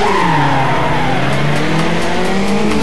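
A tuned street car in the Need for Speed: Underground racing game roars loudly as its engine note sweeps up and down through gear changes, with tire squeal mixed into the continuous, close, driving race sound.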